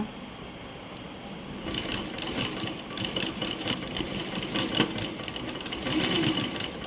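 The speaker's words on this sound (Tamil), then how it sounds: "இப்போ நான் தைக்கிறேன் பாருங்கள், பொறுமையாக தைக்கணும்" A sewing machine stitches a blouse sleeve joint, its rapid mechanical clatter starting after a quiet moment and running continuously, close and fairly loud, with no talk.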